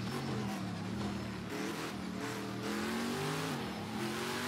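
The engine of a Sauber C9 LM race car in Project CARS 2 drones loudly and continuously, its pitch climbing steadily as it accelerates, with brief dips at gear changes.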